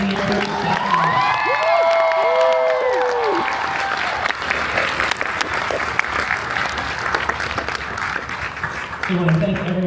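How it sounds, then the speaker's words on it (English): Applause and cheering for seniors at a high school national signing ceremony fill a gym, with whoops and children shouting, a voice carrying over the start before the clapping thins toward the end. "Let's hear one more big round of applause to our seniors."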